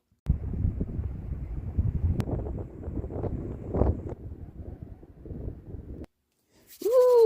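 Outdoor wind buffets a microphone in loud, low rumbling gusts for about six seconds, then cuts off, followed by a brief higher sound at the very end.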